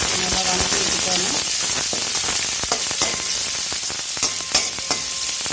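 Onions and green chillies sauté in a hot pan for a tomato rice dish, a dense close sizzle with light stirring clicks throughout.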